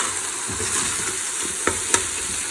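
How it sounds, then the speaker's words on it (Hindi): Steady close sizzling of garlic and ginger frying in hot oil with onion and tomato, with a couple of soft stirring scrapes and sharp little pops near the end. "लहसुन अदरक देखिए मैंने भून लिया है ऑयल में अच्छे तरीके से, प्याज टमाटर के साथ"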